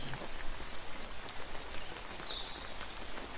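Steady rain falls continuously and fairly close, a dense, even patter with no voices and no break over a few seconds.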